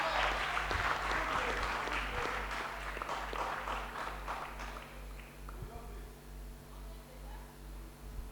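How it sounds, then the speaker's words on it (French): A church congregation claps loudly and steadily for several seconds, the applause then thinning out into scattered claps over a low hum in the hall. "Est-ce qu'on peut encore acclamer pour le roi des rois?"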